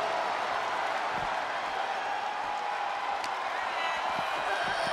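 A stadium crowd in the WWE 2K23 wrestling video game cheers during an IYO SKY vs Sasha Banks match, forming a dense, steady roar that carries loud and unbroken throughout.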